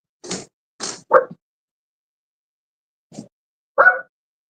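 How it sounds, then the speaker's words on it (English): A dog barks in a home, three quick loud barks in a row, then a pause and two more sharp barks, close to the microphone with silence between. "My dog decided to go nuts now."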